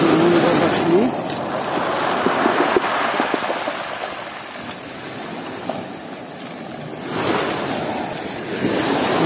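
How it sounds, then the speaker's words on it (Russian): Sea waves roll in and crash on the shore in loud, surging swells, with wind rushing across the microphone. "Какая волна пошла, какая красивая волна."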